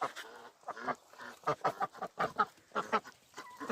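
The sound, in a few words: ducks quacking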